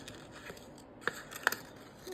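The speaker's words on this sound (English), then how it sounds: "Let your scissors do the work, and then move your paper around as the scissors cut." Scissors snipping through paper during a paper-craft cut, giving two sharp, distinct snips over a faint, quiet background with no talking.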